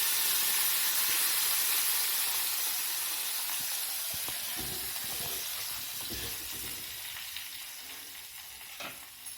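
Hot tadka tempering poured into rasam, a loud burst of hissing and sizzling at the start that gradually fades, with a few stirring clinks and scrapes as it settles.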